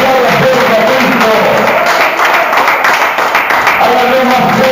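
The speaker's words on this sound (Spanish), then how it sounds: "aplauda fuerte a Cristo" A church congregation claps loudly and continuously, dense applause blending with a sustained tone and crowd noise throughout.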